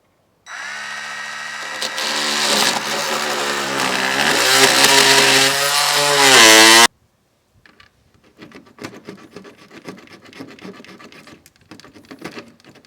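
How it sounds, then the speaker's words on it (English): A piece of saw blade rasps loudly and continuously through a plastic grille trim post on a 2013 Honda CR-V, ending abruptly, followed by fainter scraping and handling noises. "After trying to cut this little piece out with a piece of a saw blade"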